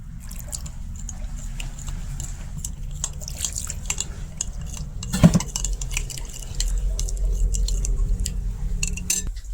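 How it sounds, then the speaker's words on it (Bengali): A spoon mixes red chilli, coriander, cumin, cinnamon and cardamom powders with a little water in a small bowl, giving soft wet clicks and scrapes with one sharper knock midway, over a steady low kitchen hum. "এখানে এটা একটু জল দিয়া মিশাই"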